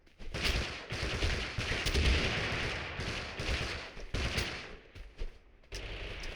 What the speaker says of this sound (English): Oh, that's a shotgun.